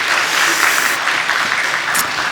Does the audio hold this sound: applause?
yes